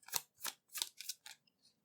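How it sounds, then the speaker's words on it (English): Tarot cards are shuffled in a run of five or six short, crisp riffling bursts at an even pace, close and quiet, with no voices. "I'm going to shuffle the tarot now."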